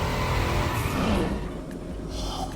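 A Crown Vic limousine drifting in the Forza Motorfest racing game: loud continuous engine roar with tyre scrub and squeal, easing slightly toward the end, no talking.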